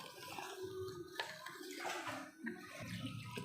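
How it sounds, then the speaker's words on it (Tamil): Water is poured into a pot of mutton curry after ground coconut goes in. The pouring splashes and gurgles in uneven bursts over a few seconds, close up, with no talking. "சேர்த்துட்டு தேவைக்கேற்ப தண்ணி சேர்த்திக்கலாம்"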